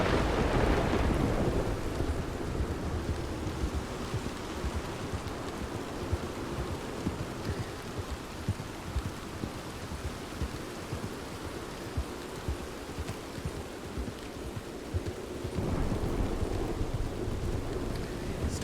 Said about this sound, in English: Storm sure is something. I feel like I have to yell over it.